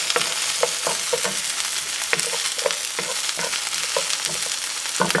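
Green onions fry in a pan while being stirred, continuous sizzling hiss punctuated by repeated utensil scrapes and taps against the pan.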